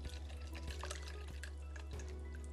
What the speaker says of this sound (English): I'm just going to pour it through the sieve into the jug